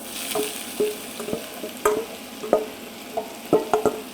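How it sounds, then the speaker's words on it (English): Finely chopped red onions frying in oil with cumin seeds, a soft steady sizzle broken by repeated clinks and scrapes of a utensil stirring the pan. "As soon as you smell that, add your onions, which are finely chopped"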